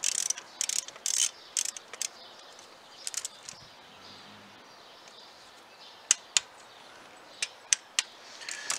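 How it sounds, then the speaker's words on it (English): A torque wrench set to 10 newton meters tightens the bolts of a Land Rover TD5 waste gate modulator, giving sharp ratcheting clicks in short bursts, then sparse single clicks, near and crisp against a quiet background. "So here we go, torque wrench set at 10 newton meters."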